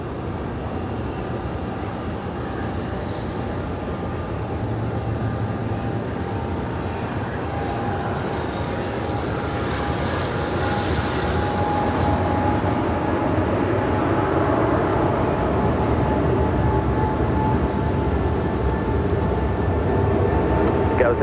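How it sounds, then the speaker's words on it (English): FedEx Boeing 777 jet rolling down runway 25 right at Los Angeles airport, a steady heavy roar with a whining engine tone that slowly builds in loudness over the takeoff run. "we do have that FedEx 777 now rolling down 25 right"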